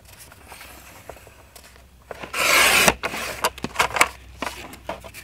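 A paper file folder being cut for a handmade journal: a quiet rub, then a loud rasping cut lasting under a second, followed by a string of shorter scraping strokes. Close up, with no talking.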